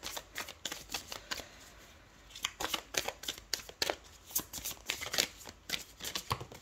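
Oracle and tarot cards being shuffled by hand, a rapid run of crisp riffling slaps in quick bursts with a short pause, close and fairly quiet, no talking.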